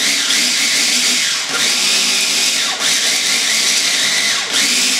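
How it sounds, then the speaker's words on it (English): A small mini food processor chops washed, trimmed parsley, a loud close whirring motor in short pulses with brief dips between bursts, no talking. "tuck it into this little mini food processor"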